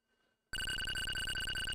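A telephone ringing inside a video game, starting abruptly after a short near-silence and continuing as a loud, steady, electronic bell tone with no talking over it.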